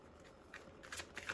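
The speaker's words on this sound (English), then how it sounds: "it's hard to shuffle the cards when my hands are so cold." Tarot cards being shuffled by cold hands, heard as quiet, close riffles and soft flicking bursts that come in short clusters.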